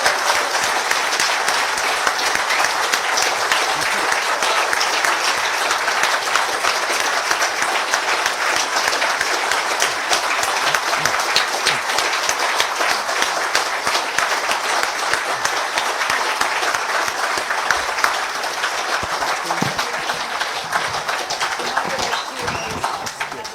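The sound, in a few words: audience applause for panel of guests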